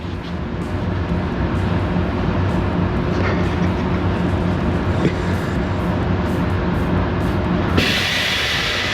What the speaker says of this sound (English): Then it'll spin it. It'll measure the road force, which is the stiffness of the tire.